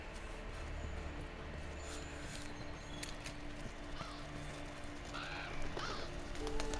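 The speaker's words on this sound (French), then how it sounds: "Vénère les corbacs, hein." Crows caw in the Monster Hunter video game, their harsh calls rising over a busy layered game soundscape with rumbles and footstep-like clatter.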